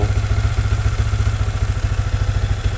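Motorcycle engine idling during warm-up on a tuning setup, a close, loud, steady low thumping pulse with rapid regular beats, heard alone.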